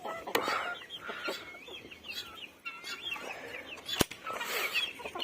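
Sick hens give soft, repeated clucks and murmurs close by, with a sharper squawk now and then, over a low background hum.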